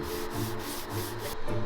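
Car body panels are hand-sanded ahead of final paint on a custom Suzuki, a short burst of steady rhythmic rubbing strokes, close and fairly quiet, with no voices.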